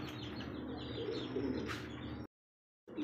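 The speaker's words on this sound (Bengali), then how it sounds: "দর্শকবৃন্দ দেখতে পাচ্ছি এখানে আরো একজন লাহোরি কবুতর" Lahori pigeons at a farm, a steady low murmur of cooing close by with a faint chirp, cutting to silence near the end.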